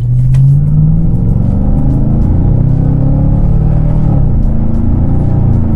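The V8 engine of a 2010 Chevrolet Camaro SS rumbles loudly and deeply from inside the cabin while driving, its pitch rising and easing as it pulls through the gears.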